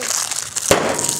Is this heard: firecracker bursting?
yes